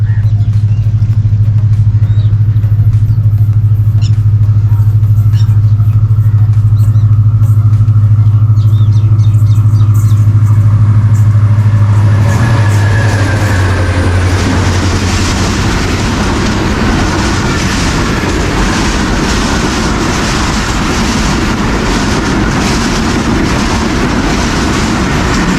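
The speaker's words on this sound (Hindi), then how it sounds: "17 अप मिल्लत एक्सप्रेस अजमल गिल साहब अपनी निगरानी में पास कर रहे हैं चटियाना रेलवे स्टेशन से।" The 17 Up Millat Express rolls through Chutiana railway station, a deep engine drone up front giving way to loud, steady clattering wagons and rushing wind as the train passes close by at speed.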